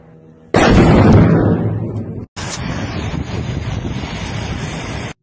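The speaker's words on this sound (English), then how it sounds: "A series of explosions in Russia." A loud, sudden explosion in Moscow erupts and rumbles down, followed moments later by a second sharp burst and a sustained roaring rumble.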